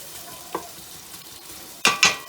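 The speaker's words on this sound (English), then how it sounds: "we'll whack a bit of onion in there. Sizzle straight away" Onion sizzles in a hot pan for a vegetable curry, a quiet steady fry broken by a few scraping stirs of a wooden spoon, the last two louder and close.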